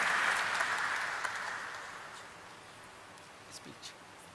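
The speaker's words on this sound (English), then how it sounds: "Please welcome him with a huge, huge round of applause" Applause from an audience at a company's stock exchange listing ceremony, fairly strong at first and then fading away to near quiet with a few stray sounds.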